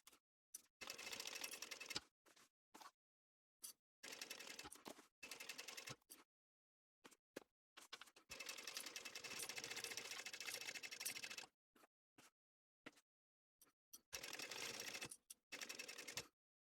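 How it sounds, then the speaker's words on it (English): A sewing machine stitches binding onto a laptop bag in short bursts of rapid mechanical chatter, separated by pauses of silence, moderately close and with no talking. "I'm going to sew on my binding using a 1/4 inch seam allowance"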